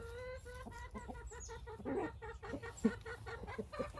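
Chickens cluck repeatedly close by, giving a busy run of short, uneven calls with a few louder squawks, set against quiet background noise.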